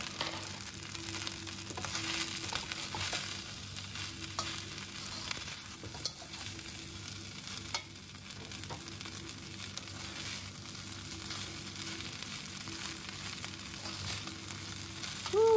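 Squid ink fried rice with chili, petai and scallion is stir-fried in a pan, making a steady close sizzle with scraping and stirring throughout.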